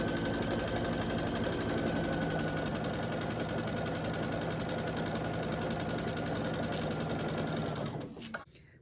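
A sewing machine runs steadily for about eight seconds, stitching pairs of quilt strips together with a dense, continuous mechanical whir, then stops abruptly at the end.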